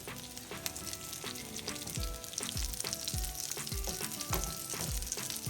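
Black bean burger patties sizzle steadily in a frying pan, a dense continuous crackle with recurring low thumps, no talking.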